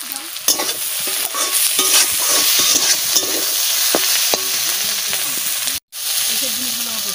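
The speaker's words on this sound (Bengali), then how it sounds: "কপি আর কুঁদরু ভাজা হয়ে গেছে, আমি লাস্টে কুচু চিংড়ি দিয়ে দিচ্ছি।" Small shrimp frying with cauliflower and kundru make a loud, continuous sizzle and hiss close by, broken by frequent spatula scrapes and stirring knocks, with a brief dropout near the end.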